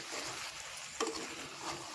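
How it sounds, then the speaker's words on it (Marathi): Masala eggplant (vangi) mixture being stirred in a pan, a steady soft scraping with faint sizzle throughout and one sharper clink of the spoon against the pan midway; no voices. "आता हे मिक्स करून घ्यायचे सगळं."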